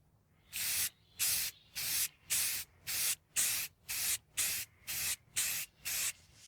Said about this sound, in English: at this point we have our first layer of actual paint fogged over